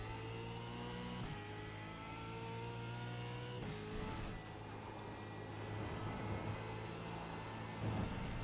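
A V8 Supercar race car engine heard from a distance, holding a steady high drone and then shifting gear early, with the pitch dropping at each shift and the revs climbing back up between changes.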